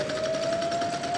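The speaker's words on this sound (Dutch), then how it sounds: "Oh, wat hoort mijn oor? Een sirene." A siren sound effect on the Dutch game show Rad van Fortuin from 1997, a steady sustained electronic tone sounding alone at moderate loudness.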